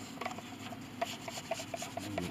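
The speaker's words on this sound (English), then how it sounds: "The old varnish is coming off, and there's some tough varnish." Old, tough varnish being scraped off the wood of a Mason & Hamlin piano during a rebuild: short, repeated raspy strokes, close up, with no talk.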